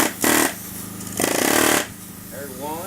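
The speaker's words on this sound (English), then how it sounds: "I just take the chisel and I've got 6 little sections I've got to hammer" A chisel is driven into metal with a hammer, producing two loud bursts of rapid, clattering metallic impacts separated by a brief lull. A faint voice-like sound trails off at the end.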